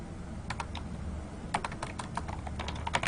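Quick typing on a computer keyboard while an IP address is entered, short clusters of crisp key clicks with brief pauses between them, close and moderately quiet over a low background hum.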